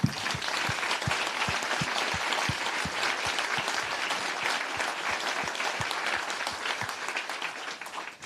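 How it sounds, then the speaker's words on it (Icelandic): Dense, sustained applause from a large gathered audience, a thick, even wash of many hands clapping at once, holding at a steady level before cutting off at the end. "mér langar eiginlega að byrja á því að fá okkur til að klappa fyrir öllum þeim sem að"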